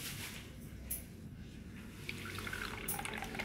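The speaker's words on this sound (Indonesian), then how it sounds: "Kemudian kita kasih air matang," Warm boiled water is poured into a drink of apple cider vinegar and honey as a soft, steady trickle with light dripping, fairly faint and without speech.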